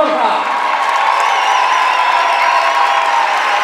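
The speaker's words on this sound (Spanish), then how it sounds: "pidiendo un fuerte aplauso para esas peñas que han participado en esa fenomenal fiesta de las carrozas de Borja." Festival crowd at the Borja float parade applauding and cheering in a loud, continuous wash of clapping and whoops, with a sustained high whistle or shout riding over the noise.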